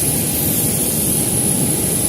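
Jet engines whine and roar steadily at an airport gate while passengers walk to a Lion Air plane bound for Makassar, a loud, even broadband rush with a high-pitched tone above it and no talk.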